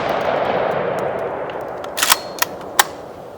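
Three sharp reports from a 10 gauge shotgun loaded with 2 3/4-inch 00 buck shells, fired at an outdoor range, ring out in quick succession after a steady hiss of background noise.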